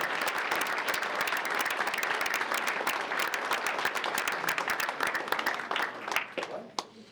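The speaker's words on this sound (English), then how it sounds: "Round of applause for these coaches." Audience applause for football coaches: steady, dense clapping from a crowd that carries on for several seconds, then thins out and stops.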